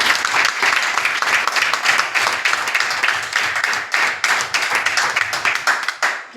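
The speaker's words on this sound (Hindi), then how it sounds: "उनके लिए एक बार जोरदार क्लैपिंग करें।" Loud, sustained applause from an audience at a direct-sales network marketing event, dense clapping running steadily throughout and easing slightly near the end.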